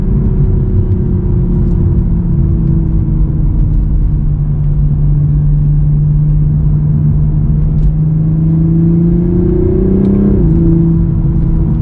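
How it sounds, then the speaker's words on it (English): A 2023 Toyota GR Supra engine drones loudly and steadily from inside the cabin, its pitch sliding slowly before climbing sharply in a quick rev near the end. "The revs come up faster in the intermediate gears."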